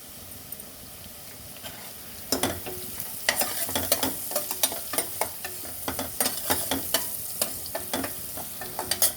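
Potatoes and chana dal fry in a pan for a village-style aloo senagapappu curry, with a steady sizzle broken by repeated sharp scrapes and clinks of stirring that grow busier after the first couple of seconds.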